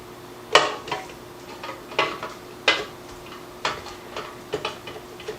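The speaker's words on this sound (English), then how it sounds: "And we're going to mix this till it's well combined." Sugar and light olive oil stirred together in a mixing bowl for biscotti: a steady series of sharp clinks and ticks from a utensil striking the bowl, close and fairly quiet, with no talking.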